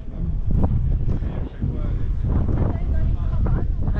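Strong gusty wind roars and buffets the microphone at a high lookout above Oviedo, Asturias, while people talk through it.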